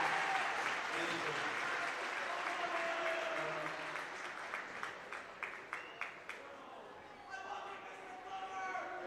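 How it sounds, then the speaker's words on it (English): A crowd in a boys' high school basketball gym gives a sustained round of applause, with people talking and scattered sharp claps and bounces rising over the cheering. "This is a round of applause for our game changers."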